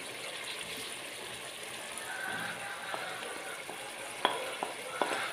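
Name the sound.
grated tomatoes and spices frying in a pan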